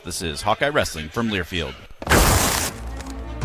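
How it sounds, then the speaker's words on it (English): A bag of Pioneer brand A-Series soybeans gives a sudden loud, crashing rustle burst right after a man's spoken line, then trails off into a quieter grainy hiss. "If you guessed that was the sound of a bag of Pioneer brand A-Series soybeans"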